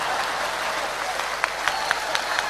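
A crowd applauds during an Islamic sermon: dense, steady clapping, fairly near, with a few sharper individual claps standing out toward the end.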